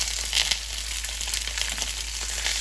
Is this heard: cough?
no